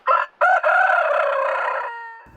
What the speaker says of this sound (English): The Yokobori family feeds their flock of chickens, feeding themselves freshly laid eggs